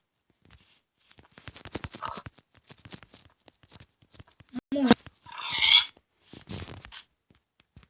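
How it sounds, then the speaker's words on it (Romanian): Minecraft pigs give a few short, snorting grunts between stretches of a player talking over the game. "Porci."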